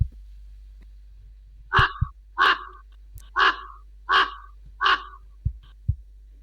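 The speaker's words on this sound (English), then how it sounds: "that includes some vocalizations for common raven" Recorded calls of a common raven: five hoarse, harsh croaks spaced at steady intervals, each loud and clear, with a few soft low thumps between them.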